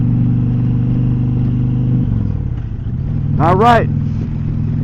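An Indian Pursuit motorcycle cruises on a Mississippi road, its engine holding a steady low drone that shifts partway through, with wind rush and a brief whooshing pass; a voice speaks briefly.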